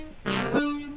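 Overdriven reese bass synth with chorus, notch filter and flanger, a short, dense, buzzing burst that sweeps and then settles into a steady sustained tone, loud and alone.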